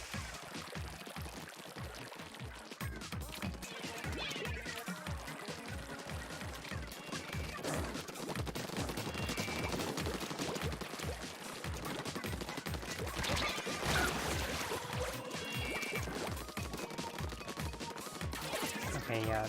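Rapid splatting bursts of dualies fire in Splatoon 2, dense and continuous over game music and effects for the whole stretch, with the shots coming quickly and close.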